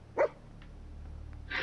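Dog companion in the game Fallout 4 gives one sharp nearby bark, then quiet background, then a second bark starts at the end.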